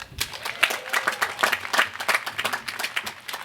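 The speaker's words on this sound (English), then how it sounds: "I'd like to ask you to give one more very grand round of applause" A commencement audience at the Washington and Lee University School of Law bursts into applause, with dense, steady hand clapping from a large crowd that holds at an even level throughout.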